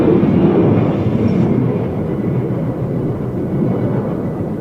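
A Eurofighter Typhoon jet flies a loop at an air show, its loud, steady roar gradually easing in intensity, with no voices.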